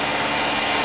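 Vehicle engine held at 2,000 RPM under a light load, a steady, dense mechanical roar with no change in level, heard alone and close.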